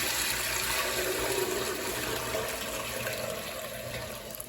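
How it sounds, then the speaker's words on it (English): Chicken broth pours steadily into a new pan as it is strained, a constant, close, rushing liquid stream with no talk over it. "now I'm going to strain our broth into a new pan"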